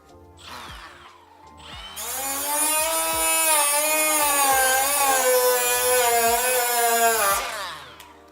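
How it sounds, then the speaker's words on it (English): A power tool fitted with a flap wheel spins up and grinds loudly and close in a garage, a sustained high whine for several seconds between quieter clicks and taps, then winds down. "I switched from a quick conditioning course pad to a flap wheel"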